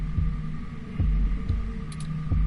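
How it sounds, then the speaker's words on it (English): A heartbeat sound effect from the video game 2064: Read Only Memories thumps in a steady, evenly spaced rhythm of low pulses over a faint background hum. "Your heartbeat is like sonar to me."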